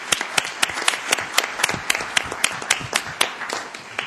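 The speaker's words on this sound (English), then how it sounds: "Let's give them another round of applause." Applause at a Columbus, Georgia city council meeting, with sharp individual claps standing out over a dense, steady patter from the audience, sustained through the whole stretch without letup.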